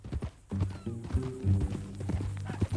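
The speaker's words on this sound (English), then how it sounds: "That new horse?" A horse nearby, hooves clip-clopping in an uneven rhythm with a low neigh or snort mixed in, moderately loud against a quiet outdoor background.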